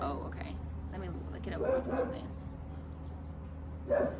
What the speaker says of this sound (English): Sorry about the dog, y'all.